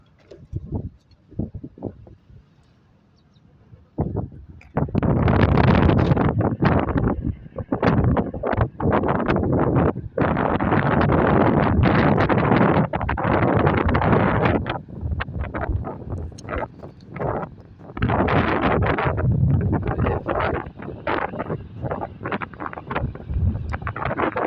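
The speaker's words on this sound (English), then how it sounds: "Sorry about the wind noise in advance." Strong wind buffets the microphone at Clyde Dam, a loud rough roar that gusts almost continuously after a quieter opening.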